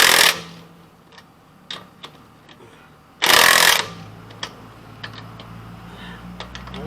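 A wrench tightens wheel lug nuts during a tire rotation, giving two bursts of loud close ratcheting or impact-tool noise among scattered light clicks and taps.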